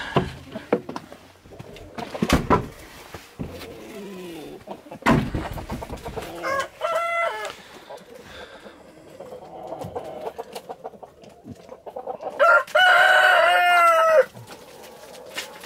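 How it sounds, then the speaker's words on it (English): Hungry chickens cluck and squawk close by amid scuffling and bumps in winter, with a rooster crowing loudly near the end and a voice speaking briefly. "We got some hungry chickens."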